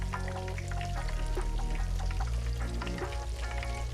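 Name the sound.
frying in vegetable oil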